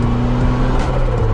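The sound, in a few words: turbocharged Miata engine revving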